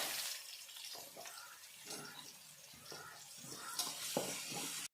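Garlic frying in oil with mustard and fenugreek seeds for a pickle, a soft close crackle broken by intermittent stirring clatter, faint overall.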